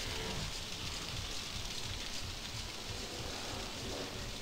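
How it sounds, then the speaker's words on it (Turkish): Steady rain in the horror video game Outlast, a dense continuous hiss of falling rain with no pauses and no talk. "Her taraf yağmurlu."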